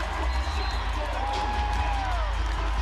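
A home arena crowd cheers and roars steadily at the tip-off of a Louisville women's college basketball game against Connecticut, with booming bass music and a whistling tone rising over a dense, continuous wash of noise.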